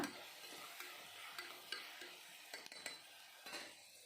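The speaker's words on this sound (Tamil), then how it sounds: "இது இப்போது வெங்காயமும் தக்காளியும் நல்லா வதங்கி வரணும் நல்லா வதக்கி விடுங்க" Onion and tomato sautéing in a pan for a tiffin kuzhambu, heard as a very faint sizzle with light, irregular spatula scrapes and small utensil clicks.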